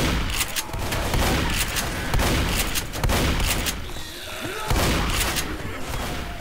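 Gunfire in the zombie shooter Left 4 Dead: repeated loud bursts of shots in rapid, uneven volleys filling the clip, with brief lulls between flurries and no one speaking.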